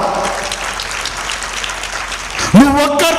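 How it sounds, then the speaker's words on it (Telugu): A church congregation claps together in a steady, dense patter of applause, followed by a pastor's amplified voice breaking in near the end. "చప్పట్లు కొడదామా?"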